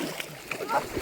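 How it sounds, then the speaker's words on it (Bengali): People bathe in a river beside a boat, and a few brief water splashes sound close by while voices talk. "সবাই নদীতে নেমে স্নান করছে"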